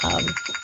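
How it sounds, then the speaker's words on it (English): A mobile phone rings in a short electronic burst of pulsing tones, loud and close, with a low murmur of a voice in the opening moment. "oh, that's my phone."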